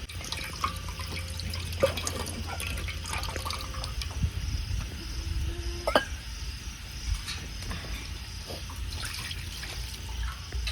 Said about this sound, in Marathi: आता हे चिकन चांगलं धुवून घ्यायचे.